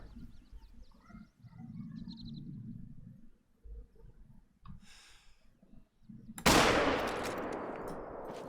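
A hunting rifle in the video game theHunter: Call of the Wild fires a single loud, sharp shot after quieter rustling and animal sounds, and its echo rings on and fades slowly.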